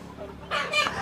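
Farmed chickens cluck and a rooster gives a short crowing call, close and fairly loud, in a brief burst over a low background hum.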